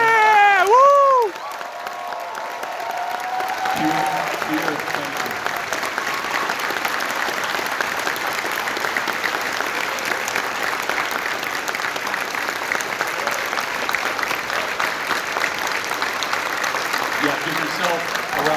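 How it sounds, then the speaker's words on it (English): Sustained crowd applause at a festival's closing ceremony, steady and loud for most of the stretch, with cheering mixed in and a brief burst of voices and whoops at the start. "Yeah, give yourself a round of applause."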